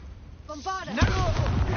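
A spoken Bombarda spell in the Hogwarts Legacy video game, a short blast erupting after a brief magical whoosh, with the crash and rumble lingering close and loud.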